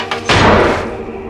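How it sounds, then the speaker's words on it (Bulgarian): A heavy metal door slams shut somewhere downstairs, one loud impact with a booming thud that rings and decays over about a second, with no voices. "Сигурно е била метонната врата долу."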